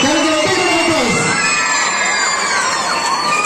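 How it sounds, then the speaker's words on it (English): School audience at an investiture ceremony cheering and shouting loudly, children's voices and steady applause filling the hall in a dense, continuous wash. "Can we give a big round of applause?"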